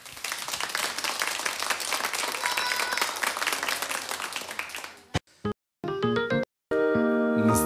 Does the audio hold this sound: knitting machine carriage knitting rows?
no